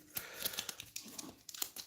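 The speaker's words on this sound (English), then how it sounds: "Let's shuffle these suckers up again." Board game cards are shuffled close to the microphone in a quick run of soft riffling and crinkling snaps, quiet and without talk.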